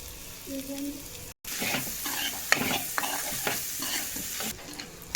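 Egg fried rice with carrot is stirred in oil in a pan, giving a steady sizzle and frying hiss with repeated scraping and stirring strokes, up close after a brief silence.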